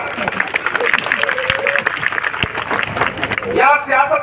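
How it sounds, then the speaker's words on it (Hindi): Audience applause at a Hindi poetry recital (kavi sammelan) is a dense clapping crowd, loud and close, that carries on under a voice speaking over it. "तालियां बजाओ।"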